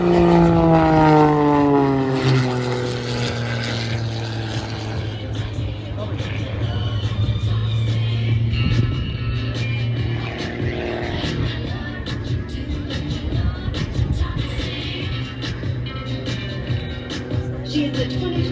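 An aerobatic propeller airplane performing at the Oshkosh airshow drones loudly with a shifting engine pitch that sweeps as it maneuvers, heard alongside continuous announcer speech.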